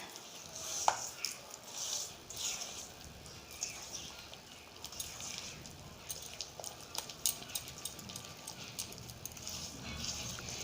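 Palm fruit batter with sugar being beaten by hand for taler bora fritters, a soft, steady run of slapping, stirring strokes that stays faint and close throughout.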